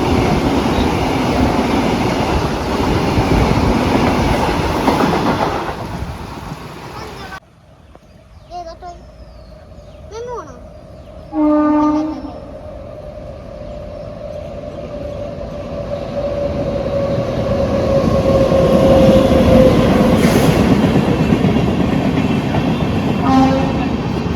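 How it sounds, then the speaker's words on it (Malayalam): A fast Vande Bharat express train roars past close by, fading briefly to quiet with a short horn blast and some voices before the rushing rumble builds again. "വന്ദേ ഭാരത്"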